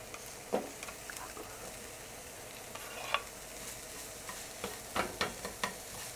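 Bacon sizzles in a frying pan with a soft, continuous crackle and scattered louder pops and spits, close by and fairly quiet, with no voices.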